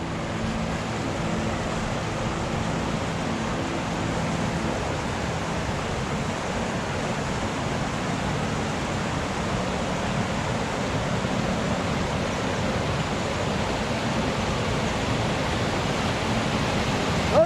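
Ballysadare waterfall rushes in a constant broadband roar, loud and unbroken from start to finish with no talk.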